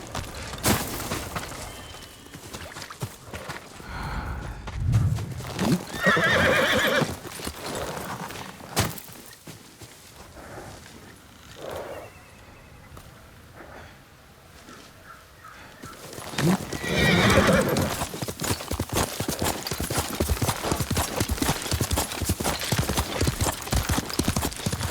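A horse in the video game Ghost of Tsushima snorts and whinnies in loud bursts, with hooves clopping and stamping close by between quieter stretches.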